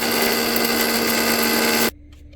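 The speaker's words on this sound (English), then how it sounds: "We're going to grind it to a nice fine powder." Electric grinder whirring steadily at high speed as it grinds cooled masala into fine powder for Chettinad chicken fry, loud and close, then abruptly switching off into near silence.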